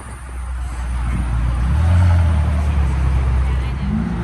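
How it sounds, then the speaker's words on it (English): An orange Lamborghini Huracan Tecnica arriving at an outdoor car meet, a low engine rumble swelling closer to a peak at mid-clip and then easing, with crowd chatter and road noise around it. "We got this orange Huracan rolling up"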